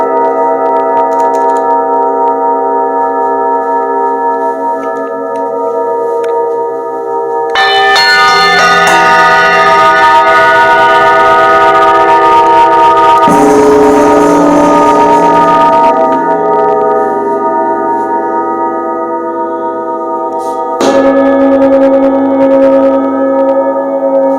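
Temple bells ring with sustained metallic tones, joined midway by a denser clash of metal utensils, cymbals and gongs striking rhythmically before fading back to lingering bell resonance, loud and without talk.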